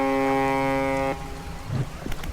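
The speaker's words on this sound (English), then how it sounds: "What does this foghorn do?" A foghorn in the fishing video game Dredge blares once as a loud, steady, harmonic-rich horn tone for about a second, then cuts off, leaving faint ambient wind and water.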